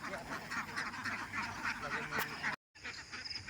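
Ducks quack steadily in a flock at a duck farm, a dense, continuous chorus of calls close by, briefly cut off near the end before resuming.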